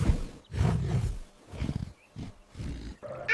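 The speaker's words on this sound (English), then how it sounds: "Rhinoceros. This is a rhinoceros." A rhinoceros gives several loud, deep, rough roaring grunts in separate bursts over a few seconds, close and alone with no talk.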